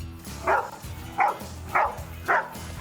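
Hunting dogs in the bush give four evenly spaced barks, moderately close, over a low background hum.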